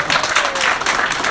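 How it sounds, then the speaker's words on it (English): A comedy-show crowd breaks into brief, loud, dense clapping, a short burst of applause heard close and alone without speech. "Round of applause."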